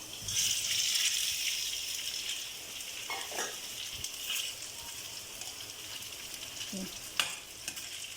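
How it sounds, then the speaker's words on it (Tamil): Potato and colocasia pieces roasting in oil in a pan, a continuous bright sizzle with occasional stirring scrapes and clicks, moderately near and steady throughout. "இது ஆல்ரெடி குக் ஆகிட்டு இருக்குது. ஆயிலில் நல்லா ரோஸ்ட் ஆகி வரட்டும்"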